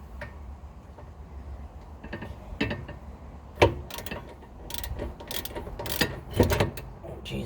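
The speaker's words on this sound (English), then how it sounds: "I'm gonna grab the ratchet and take that bolt the rest of the way off of there." A ratchet wrench backs a brake bolt off a 2002 Nissan Altima, heard as scattered close clicks and metallic ticks in uneven bursts, growing busier and louder toward the end.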